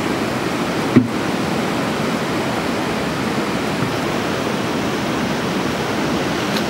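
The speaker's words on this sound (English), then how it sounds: "Just gonna show him the creek real quick, the river." A glacier-fed creek rushes steadily nearby, a dense, even roar of flowing water with one brief knock near the start.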